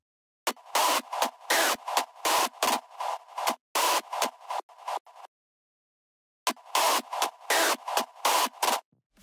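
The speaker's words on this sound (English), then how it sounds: "To fill up the emptiness I added this screech and sidechained its reverb." Rawstyle hardstyle screech synth built in FL Studio, its reverb sidechained, fires in loud choppy bursts of harsh noisy tone, pumping in a rapid rhythmic pattern that stops dead for about a second before resuming; no talking.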